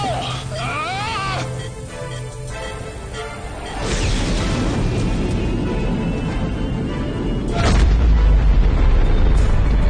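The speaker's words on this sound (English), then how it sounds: "there's been an explosion on the far side of the moon" A film explosion on the far side of the moon: a deep rumbling blast that swells into a sustained roar, followed by a second heavy boom, loud and close, after an opening of tones and effects.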